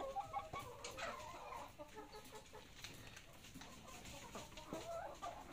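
Free-range hens on a farm clucking steadily at a low volume, with a few sharper squawks rising above the soft chatter.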